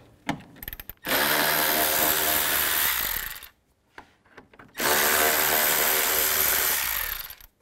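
A power driver with a T30 socket whirs loudly while backing screws out of a 2007-10 BMW X3 during radiator replacement, two sustained bursts of a few seconds each separated by a short pause, close up.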